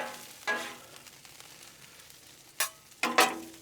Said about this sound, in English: Kind of let them onions cook a little bit.